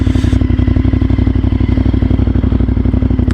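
A Honda Firestorm VTR 1000 motorcycle engine pulls hard under acceleration, a loud, close, rapid pulsing V-twin rumble holding steady throughout with no talk.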